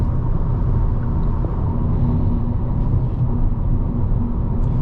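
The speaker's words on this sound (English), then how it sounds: "Road noise, wind noise, you can definitely hear more of it than in the German cars." Cabin of a 2012 Toyota Camry SE V6 on the move: a steady, low road rumble and wind hiss filling the interior, constant and unbroken with no talk.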